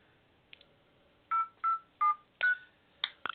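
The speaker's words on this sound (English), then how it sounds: "I am actually going to try to call his number right now" A phone number is dialed, producing a quick series of separate DTMF keypad tones, each a short clean beep, heard clearly and alone against near silence.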